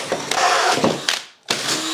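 A power drill bores into wood up close, its motor whining in steady bursts with a short pause before drilling resumes.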